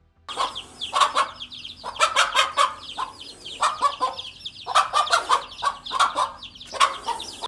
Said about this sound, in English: the mother chicken did a pretty good job of directing her children to safety